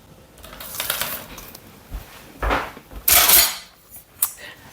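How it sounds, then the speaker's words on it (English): Knife and cutlery handled in a home kitchen, with a series of short metallic clinks and scrapes, some louder clatters near the end, close and without talk. "Let me grab a knife."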